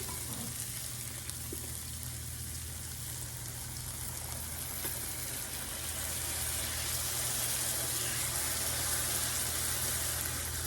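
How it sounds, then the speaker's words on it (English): Water hits a hot pan of frying Spanish rice, giving a steady, fairly quiet hiss and sizzle that holds evenly throughout without pause. "Pour the water in."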